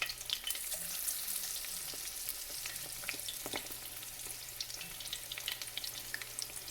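Beer-battered shrimp deep-frying in hot oil, giving a continuous bubbling sizzle with scattered crackles and pops, steady and close with no talking.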